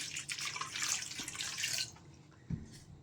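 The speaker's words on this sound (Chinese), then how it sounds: "板栗用之前我们要先把它清洗一下哦" Chestnuts being rinsed under running water in a sink, a steady splashing hiss for about two seconds that then cuts off, followed by a soft knock and a brief trickle.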